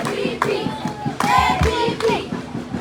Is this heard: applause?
yes